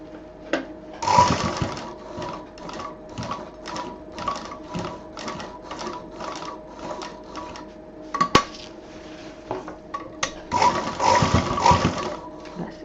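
Sewing machine stitching fabric for a homemade college bag, running in short rapid bursts with brief pauses, close and fairly loud, with a longer steady run near the end.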